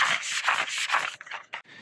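Fine 500-grit sandpaper rubbed by hand across wood and resin tables, a close, soft scratchy swishing in repeated strokes that ends in a few shorter passes.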